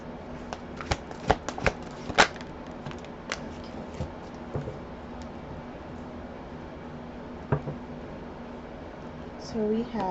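Cards are shuffled and handled, giving a cluster of light slaps and flicks early on, then a few scattered soft taps over a steady room hiss.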